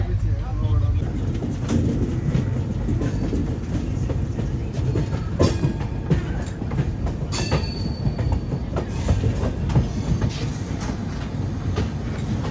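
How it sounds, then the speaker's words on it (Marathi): Train running on rails on a rainy journey toward Amarnath, a steady loud rumble with repeated clickety-clack beats and brief squeals from inside the carriage, heard throughout and not masked by talk. "आता आमचा ट्रेनमध्ये 4-5 तासाचा प्रवास झाले"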